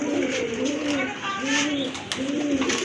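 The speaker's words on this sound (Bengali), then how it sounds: "আর এক জোড়া কবুতর খুবই লক্ষ্মী এবং কিউট কবুতর" A pair of pigeons at a pigeon sale coo in three soft, rolling phrases close by, with voices murmuring in the background.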